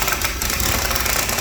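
A drill fitted with a butterfly bit cuts through a VIM pan, giving a loud, dense, continuous grinding whir that stays steady throughout the short burst.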